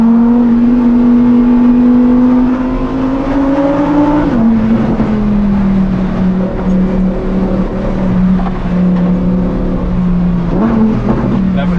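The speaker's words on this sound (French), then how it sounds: "on s'arrête, on en trouve la fenêtre comme ça et on écoute le son moteur" A Lamborghini Huracan STO engine drones loudly at steady revs from inside the car, with the pitch rising, dropping after a shift, then climbing again under road and wind roar.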